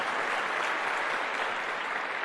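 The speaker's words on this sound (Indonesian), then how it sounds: "silakan kalau mau tepuk tangan" An audience at an Indonesian talk applauds steadily, and the dense, even patter of many hands keeps a constant level throughout with no voices over it.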